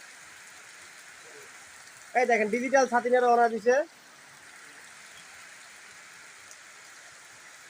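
Rain falls steadily in a soft, even hiss through the whole stretch, and someone briefly speaks over it near the middle.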